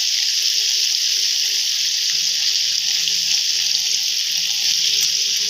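Water runs steadily into a pot of mixed winter vegetable curry, a continuous close hiss and splash that holds at even loudness throughout with no voices.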